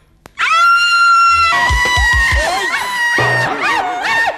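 A woman lets out long, loud, piercing screams in a Thai comedy sketch, shrill sustained cries that waver and break up, with other voices and shouts joining in between.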